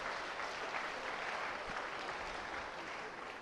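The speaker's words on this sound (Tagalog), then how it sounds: "Pwede bang pumalakpak yung mga agila dito?" Congregation at a church service clapping together, a dense steady wash of applause sustained throughout at even loudness.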